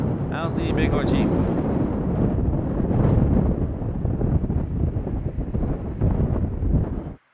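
Strong mountain wind in Colorado's Flat Tops wilderness, buffeting the microphone in loud, continuous gusts with heavy low roaring, and a voice briefly heard at the start.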